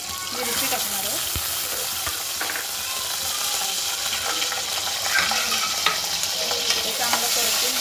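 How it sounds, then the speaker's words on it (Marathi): Cumin, crushed garlic and chili fry in hot oil for a Maharashtrian aluchi patal bhaji, a loud, continuous close sizzle with some stirring clatter throughout. "त्यात तेल गरम करून घेतलंय, त्यामध्ये आपण टाकणार आहे जिरं, लसूण खूप जास्त टाकायचा ठेचून"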